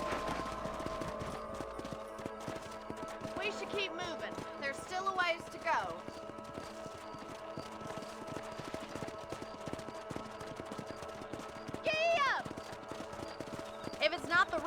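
Horse hooves clip-clop in a steady rhythm in Red Dead Redemption, moderately close under a bed of game music, with brief whinny-like tones and voices talking over parts of it.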